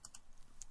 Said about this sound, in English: just press Ctrl Z on the keyboard